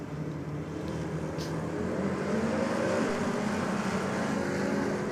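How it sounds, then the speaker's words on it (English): A Mustang and an LS-powered Datsun Skyline drag race, heard as a steady, fairly faint engine roar that swells slightly and holds as a continuous rumble with no voices. "we got the Mustang up against the LS-powered Datsun Skyline."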